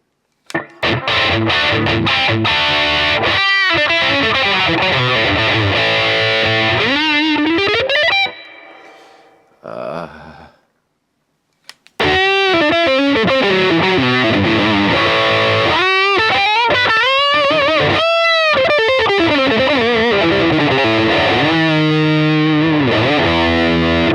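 A high-gain distorted electric guitar played through a Positive Grid Reactor amp roars loudly with bending, sliding riffs, drops into a brief near-silent pause around the middle, then returns with heavy sustained chords and bent notes.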